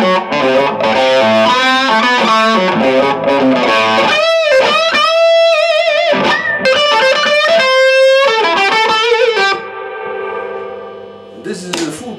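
An Ampeg GVT15-112 valve guitar combo running in its 7.5-watt half-power mode plays a distorted electric guitar, first with busy riffing and chords, then held notes and a fading ring, loud and close with no talking.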